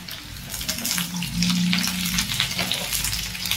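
Bitter gourd pieces frying in a pan give a steady, close sizzle with bright crackling spatter and no talk.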